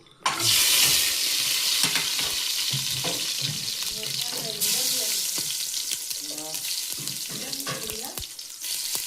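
Drained rice frying in a pan with cloves, cinnamon and green cardamom for an economical biryani, a loud steady sizzle with stirring scrapes, water-like hiss throughout, no talking.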